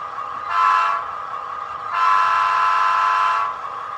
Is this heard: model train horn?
yes